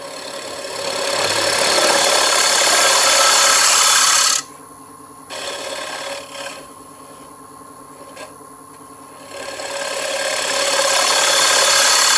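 A lathe turns a dry wood bowl while the bottom is hollowed out. The loud, steady rushing whir of the spinning lathe and cutting tool drops to a quiet hum for several seconds, then rises back to full loudness.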